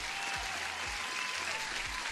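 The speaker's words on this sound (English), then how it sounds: "You deserve your applause as well." Steady, dense applause that holds at an even level from start to finish, soft and somewhat distant, with no individual claps standing out.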